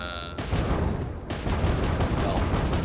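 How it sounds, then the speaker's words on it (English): Flak cannons fire in a space combat video game as a dense, continuous barrage of rapid blasts that starts abruptly and keeps going loud and steady, with no talk over it. "actually, forgot the flak cannons"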